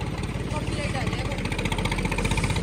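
Tractor engine push-started on a road, a steady throbbing mid-pitched chug with rapid regular pulses, fairly close and continuous under background noise.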